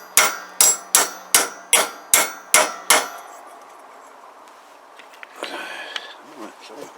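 A hammer strikes a bent metal mainstand from a Kawasaki GPZ500S motorcycle eight times in a steady rhythm, each a loud ringing clang, then quieter rustling and shuffling follow.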